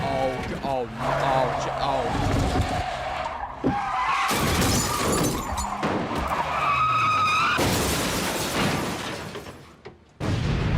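A TV drama car crash in which a cyclist is struck: loud tire skidding and squealing build into a heavy impact with shattering glass and crunching debris, then a brief near-silence at the end.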